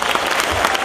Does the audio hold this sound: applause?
yes